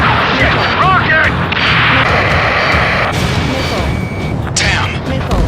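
Rocket explosions and heavy impacts in the combat flight game Ace Combat 7, loud booms and crashes amid constant roaring action, with radio-style voices speaking over the din.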